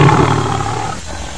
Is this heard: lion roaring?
yes